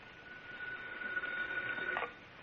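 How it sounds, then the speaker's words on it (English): A telephone ringing effect from an old-time radio drama, a steady electric bell tone sounding through the clip at moderate level before cutting off near the end. "I was talking to Sarge when the phone rang."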